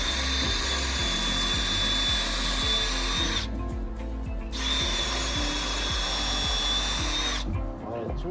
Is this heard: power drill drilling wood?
yes